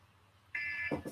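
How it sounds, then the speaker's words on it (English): A reminder alarm starts suddenly with a steady high electronic tone, then gives two short pulsing beeps. It sounds fairly quiet over a faint background. "That was my alarm to remind me that Anderson Silva's"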